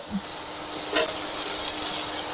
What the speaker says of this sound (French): Je viens ajouter mes champignons.